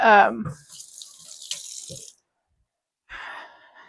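A dropped jalapeño is rinsed under a running kitchen tap in a short hissing burst of water. The water stops abruptly, then a softer splash follows, and a voice is heard briefly at the start.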